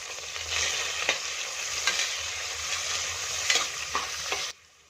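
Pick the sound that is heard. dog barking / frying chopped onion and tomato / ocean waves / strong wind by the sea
frying chopped onion and tomato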